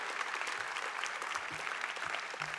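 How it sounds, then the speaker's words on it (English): Applause from a seated crowd at an award ceremony honoring Nancy Pelosi, dense and sustained clapping from start to finish, with a few faint voices and thumps mixed in. "that is an applause line as well"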